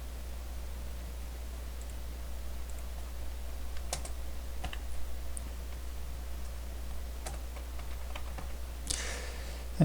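Scattered quiet keyboard keystrokes, mostly isolated clicks with a slightly louder burst near the end, over a steady low electrical hum with no voices.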